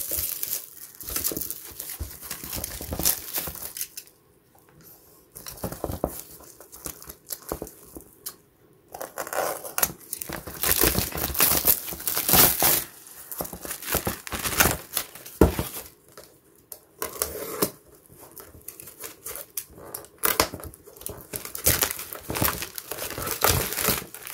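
Plastic packaging crinkles and tears as a BMC air filter for a 2015 Peugeot 508 RXH is unwrapped, close, irregular rustling bursts with short pauses and no talking.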